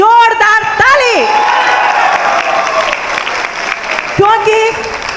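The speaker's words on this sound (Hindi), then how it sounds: "गानोडर्मा के लिए जोरदार ताली।" Loud, dense applause and cheering from a crowd at a gathering, sustained for several seconds, with a voice speaking and singing over it at the start and again near the end.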